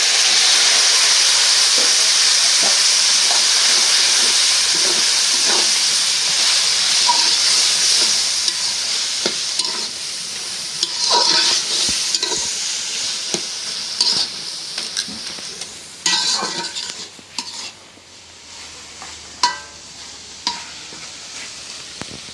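Gota shaak greens stir-fried in a hot pan, a steady loud sizzle and hiss with frequent scraping stirs that slowly settles quieter as the leaves wilt; no voices.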